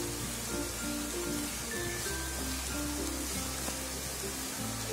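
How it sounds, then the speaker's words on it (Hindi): Vegetable filling for spring rolls, with green chilli added, fries in a pan with a steady, even sizzle that holds constant and moderately loud throughout, with a faint hum underneath and no talking. "इसमें हमने हरी मिर्च भी डाल दी और हल्का सा हम इसको फ्राई करेंगे।"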